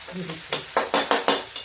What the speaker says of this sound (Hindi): इसको भूनते हुए करीब करीब 5 मिनट हो गया है।